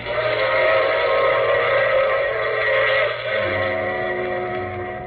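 A train rumbles steadily with a sustained whistle-like tone over the rolling noise, loud and continuous throughout.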